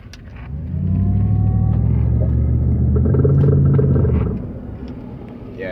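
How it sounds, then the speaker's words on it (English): A car with worn front differential bearings turns, giving a steady low droning rumble that swells in and holds for a few seconds before fading. "Just showing you guys exactly what a bad differential sounds like."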